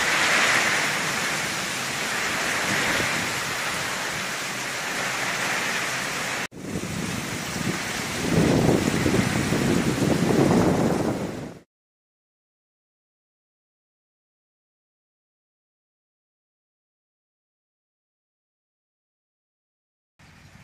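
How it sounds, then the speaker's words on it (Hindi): Heavy monsoon rain pours down in Rajasthan, a loud, steady broadband roar of downpour running close and continuous for about eleven seconds, then cutting off abruptly into silence. "जोरदार बारिश।"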